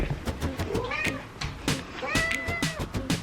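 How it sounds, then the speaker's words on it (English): A cat meows a couple of times nearby, short wavering cries amid soft rustling and handling noises. "So that's the reason why I got Java, my cat."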